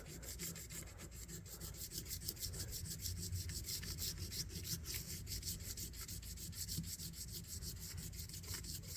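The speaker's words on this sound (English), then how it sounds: "I spent about 15 minutes sanding on it" Close-up hand sanding on the brass of a vintage knife, with quick, steady back-and-forth scratchy strokes repeating throughout and no voices.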